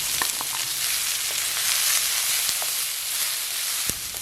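Chopped onions and garlic fry in hot oil with a steady, close hiss that holds throughout, and a few soft clicks of stirring sound over the sizzle.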